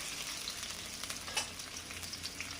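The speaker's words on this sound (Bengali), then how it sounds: "এগুলো একটু ভালো করে একটু ভেজে নিই" Chopped onion, green chili and cumin frying in a pan, a soft continuous sizzle with faint scattered crackles, quiet and steady throughout.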